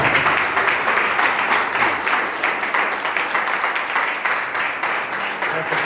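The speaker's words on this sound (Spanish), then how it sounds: "Fuerte aplauso." Loud, sustained applause from a church congregation fills the air, dense steady clapping with a faint whoop of voices mixed in.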